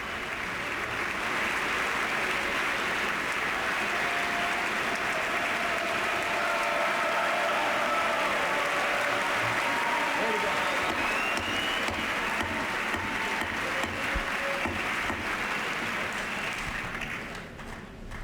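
Sustained applause in the chamber of the U.S. Congress before the 2008 State of the Union address: a steady, dense wash of clapping from a large audience for the whole stretch, easing slightly near the end.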